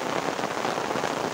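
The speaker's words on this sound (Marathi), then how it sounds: "जोरात असा पाऊस स्टार्ट झाला आहे" Heavy rain pours steadily over traditional paddy fields in the Konkan countryside, a dense, even hiss that holds at a constant loud level with no pauses.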